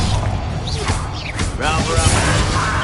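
A Bombarda blasting spell in Hogwarts Legacy goes off in a fight, with whooshing casts and a crashing smash about halfway through, all over busy combat noise and a voice.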